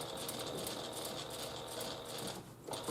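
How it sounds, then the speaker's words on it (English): Sewing machine running steadily while stitching a reinforcement seam on a fabric pouch, a close, continuous mechanical whir with rapid needle ticking that dips briefly near the end before picking up again. "sew it once more to make sure that my seams match up"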